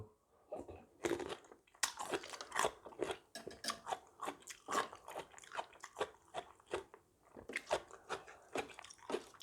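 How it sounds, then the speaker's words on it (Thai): Spicy blue crab salad being eaten, with repeated close, wet crunching and chewing bites in an uneven rhythm throughout. "แม่กินยำปูอยู่"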